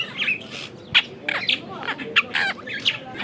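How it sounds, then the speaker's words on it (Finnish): Wild birds squawk and chirp near an outdoor meal in South Africa, giving a busy run of sharp, loud, overlapping calls close by. "Me ollaan syömässä ja tää käy linnut ihan villeinä."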